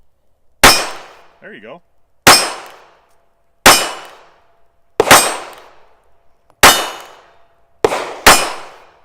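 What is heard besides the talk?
shots from an old .32 pocket gun hitting a target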